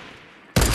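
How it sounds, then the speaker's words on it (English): A loud rocket launch in a squad shooter video game, one abrupt, close blast that cuts in after a quiet stretch and stays sustained and roaring to the end. "You can shoot the rocket if you want right now."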